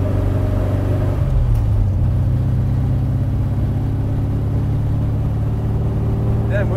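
A Chevrolet Nova with newly fitted axle gears and headers accelerating, its engine droning loudly and steadily up through the revs from inside the car, with a shift near the start and talk over it.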